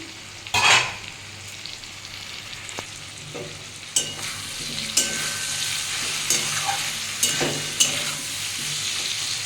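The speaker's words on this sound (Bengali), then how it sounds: "আমার আলুটা ভাজা হয়ে গেছে আর বেগুনগুলো গলে গেছে" Potatoes and eggplant frying in oil for a katla fish curry, a steady close sizzle with occasional sharp clinks and scrapes of stirring.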